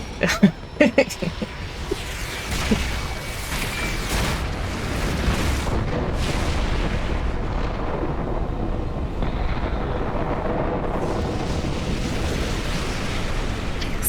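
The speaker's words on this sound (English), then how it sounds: "Explosions." A few sharp bangs at the start give way to a long, heavy rumbling roar of video game explosions that fills the rest, with talk mixed in.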